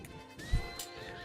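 In Zelda: Breath of the Wild on Master Mode, a horse whinnies as it is struck in battle, giving a short, close neigh with a thud of impact over game background sound.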